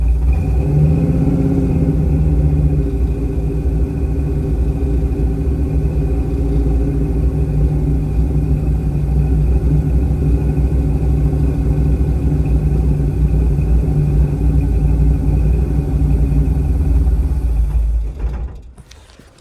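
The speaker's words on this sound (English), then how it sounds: "Oh yeah, idle's way lower now without shaking." A 1969 Buick Special Deluxe engine idles steadily and close by, a low, even rumble with a faint mechanical creak that runs unbroken for most of the span before cutting off near the end.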